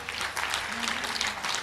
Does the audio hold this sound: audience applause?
yes